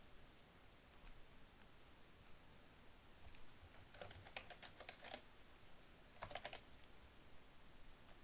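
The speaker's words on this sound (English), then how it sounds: "let me type in header." Typing on a computer keyboard, quiet and close, with two short bursts of rapid key clicks over a faint steady hiss, separated by a pause.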